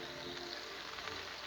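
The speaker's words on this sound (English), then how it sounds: "Let all them vegetables cook." Mixed vegetables and broccoli sizzling on a Blackstone griddle for a Thai chili chicken and shrimp stir fry, a dense steady hiss and crackle that holds even and close throughout, no voice on top.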